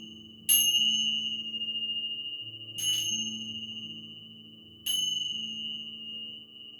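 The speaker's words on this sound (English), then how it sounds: "Let your mind, your body, and your soul absorb the vibrations of the bells" Three bells strike at slow, even intervals during a gentle chair yoga session, each ringing out with a long, bright sustained tone over a soft, steady musical drone.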